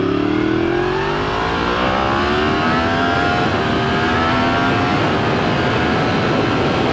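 A Yamaha FZ-10 motorcycle accelerates hard, its engine note rising steadily through a loud, continuous pull with no talking.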